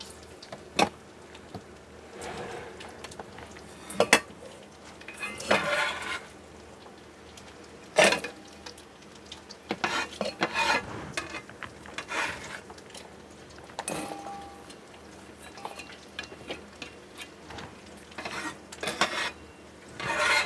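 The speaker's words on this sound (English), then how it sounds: "I'm just going to go ahead and put these onions in the bowl." Cooked, browned onions being scooped into a bowl for sweet potato and sage soup, with light scraping and clinking of a utensil against dishware in short scattered bursts, fairly close and quiet, with no talking.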